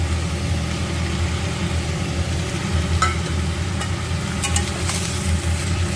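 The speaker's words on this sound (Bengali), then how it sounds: "তারপরে আমি দিয়ে দিচ্ছি কুচো চিংড়িটা" Small shrimp sizzling with potatoes in a frying pan, a steady, fairly loud hiss of hot oil throughout, with a few light clinks and stirring scrapes toward the end and no talking.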